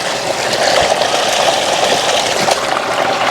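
Water runs steadily into cupped hands for drinking in a Jaffna garden, a continuous close splashing gush with no speech.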